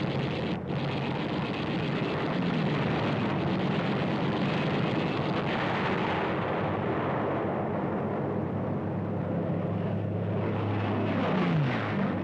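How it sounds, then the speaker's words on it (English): American B-25 bombers sweep in at treetop level on a strafing run, a loud, continuous roar of piston aircraft engines with a rising and falling pitch, close overhead, with no talk. "the American B-25s can counterattack. They come in at treetop level to strafe the enemy planes on the ground"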